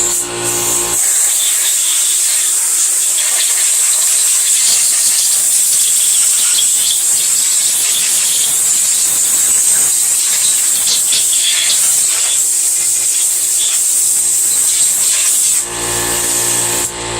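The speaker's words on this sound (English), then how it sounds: "now the air compressor's running" Air compressor running in a workshop where Ford cylinder heads are being built, a loud, steady hissing roar close by that holds nearly unbroken for the whole stretch, briefly cutting off near the end.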